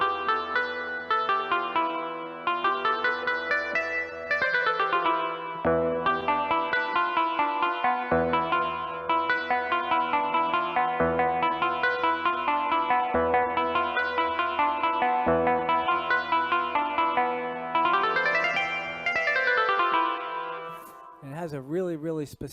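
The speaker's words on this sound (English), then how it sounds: "Moving on, the next one we get is Phrygian" Electric guitar with chorus, echo and distortion effects plays a scale in the Phrygian mode, a steady run of single notes climbing and descending in repeated phrases, clear and upfront with no talking.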